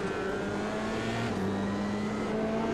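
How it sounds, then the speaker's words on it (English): Onboard engine drone of an F3 race car in iRacing at Montreal, with a steady scraping rub from the floor after contact running continuously under the motor for the whole stretch. "Now you will hear something is rubbing on the floor."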